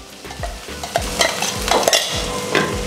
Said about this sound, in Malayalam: നമ്മുടെ കറിവേപ്പിലയും വറ്റൽമുളകും നന്നായി ഒന്ന് മൂത്ത് വരണം